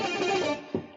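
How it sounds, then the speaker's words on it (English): An overdrive voice on a Yamaha PSR-E333 keyboard, a short, gritty sustained chord that fades within a second, with a brief second hit near the end. "And also this thing has an overdrive sound too."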